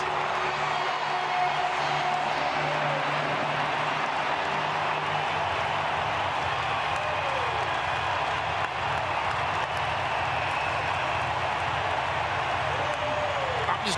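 A baseball stadium crowd at a college game between Oklahoma State and Arkansas keeps up a dense, sustained roar of cheering and clapping after a two-run home run, steady and fairly loud throughout with a commentator talking over it.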